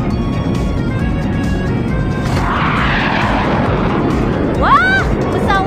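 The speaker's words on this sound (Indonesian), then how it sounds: "Tarik kemudi ke bawah untuk membiarkan pesawat terbang." A cartoon airplane engine roars and swells as the plane takes off in a Baby Bus children's video game, under a steady background music bed, with a short rising chirpy effect near the end.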